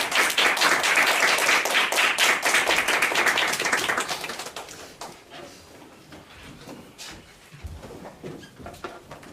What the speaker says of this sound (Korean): 박수로 박사님을 모시도록 하겠습니다